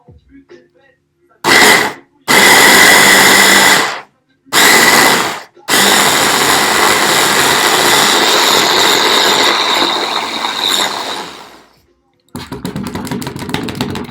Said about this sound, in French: j'ai acheté un mixeur